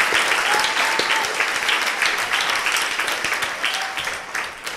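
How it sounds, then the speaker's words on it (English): An audience at a Feast of Unleavened Bread Shabbat presentation breaks into sustained, dense applause, loud and close, fading slightly toward the end. "the ones that get the biggest round of applause"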